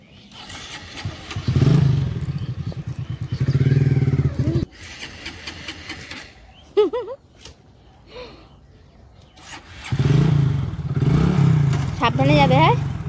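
A motorcycle engine runs in two loud, steady low-pitched bursts near the start and end, dropping away in between while people talk nearby.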